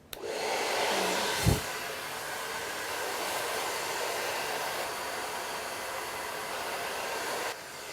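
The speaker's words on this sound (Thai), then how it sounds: "เราก็จะเป่าผมให้แห้งค่ะ" A hair dryer blows hair dry with a steady, close, breathy roar for about seven seconds, broken by a single brief bump early on, then switches off.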